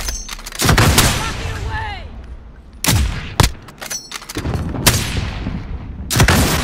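An RPG fires in a shooter video game, a sharp loud blast standing out among several other gunshot bursts, with players talking over the action.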